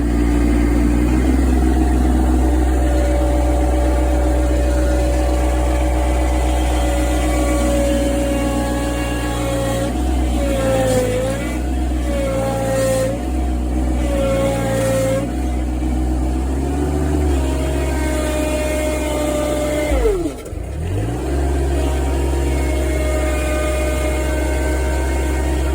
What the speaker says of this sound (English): Now we're just gonna back the tractor up nice and slow.